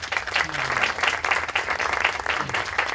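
An audience at a university round-table on the Catholic Church gives loud, steady applause welcoming a speaker, many hands clapping in a continuous wash with rhythmic pulses.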